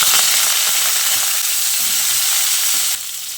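Eggplant pieces fry in hot oil on a high flame, a loud, steady, broad sizzle and hiss that runs throughout and drops slightly near the end, with no talking.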